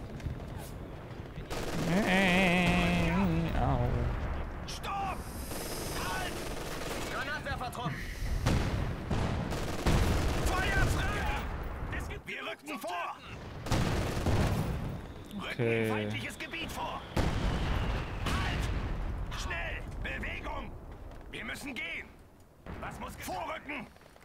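Repeated bursts of gunfire and explosions crackle through a busy Company of Heroes 2 game soundscape while a voice talks over the action.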